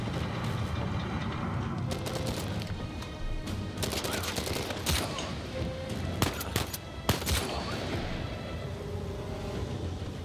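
Rifle fire in the video game Uncharted 4 crackles through a dense, noisy battle mix, with bursts of sharp shots clustering in the middle and later parts, and a voice talking over the action.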